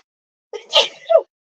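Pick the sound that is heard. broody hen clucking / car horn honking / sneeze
sneeze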